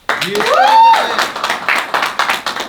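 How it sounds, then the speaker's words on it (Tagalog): Crowd clapping at a rap battle event, a loud sung or shouted voice over the opening, then a run of crisp, rhythmic claps continuing alone to the end. "parinig muna ako ng isang malutong na palakpak."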